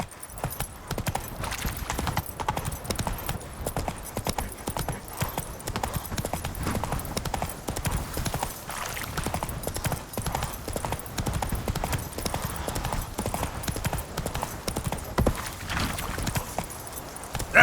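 Horse hooves in The Witcher 3: Wild Hunt, a fast, dense, steady clip-clop of the mount moving over ground, close and loud, continuing throughout with faint game ambience and an occasional snort.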